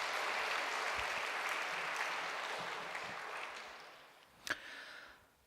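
Church congregation applauding in encouragement of middle and high school students, a steady broadband clapping wash that holds for several seconds, thins out toward the end, then a sharp isolated clap or knock rises near the close.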